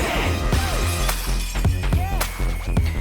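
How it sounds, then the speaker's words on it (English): Glass shattering as a sound effect within a K-pop song: sharp crashing bursts land over a driving beat and layered music, repeating several times across the short stretch. "the sound of the glass breaking in the background"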